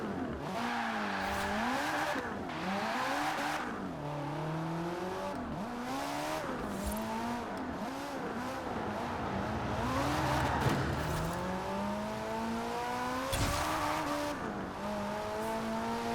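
Lexus ISF engine in the Forza Horizon racing game, revving loudly and continuously with rising and falling pitch through gear changes, with occasional tire noise and no talk.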